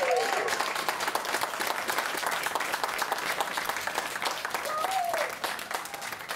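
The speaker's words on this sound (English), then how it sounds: "Let's get a big round of applause for our PCA 10 main event champion" An audience applauds the PCA 2013 main event poker champion, a dense sustained round of clapping with a few scattered voices, fading a little at the close.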